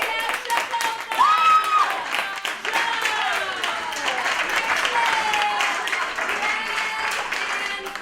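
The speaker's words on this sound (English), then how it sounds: "Please give one more round of applause for ImprovNation." Studio audience applauds at the close of an improv comedy show, a steady wash of many hands clapping with a few cheers and whistles rising through it, full and sustained from start to finish.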